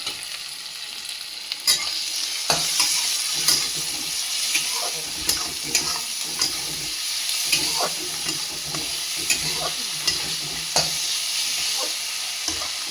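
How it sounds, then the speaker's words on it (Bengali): Green chili paste, salt, Kashmiri chili and turmeric sizzle and fry in a pan for a fish recipe, with a spatula clacking and scraping in an irregular rhythm over a steady hiss; no one speaks. "দিয়ে এটা আমি ভালো করে নেড়ে চেড়ে একটু চাপা দিয়ে দেবো, একটু ভাজা ভাজা হোক।"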